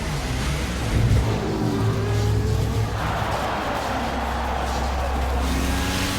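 McLaren Formula 1 cars pull away after going off into the gravel, their engines a loud, steady, high whine with rising tonal pitch that carries on without a break.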